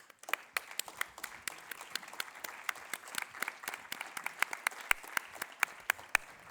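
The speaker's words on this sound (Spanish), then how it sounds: "Y darle un fuerte aplauso." Audience applause at a hacker congress, a sparse scattering of distinct claps that stays steady and moderately loud, without anyone speaking.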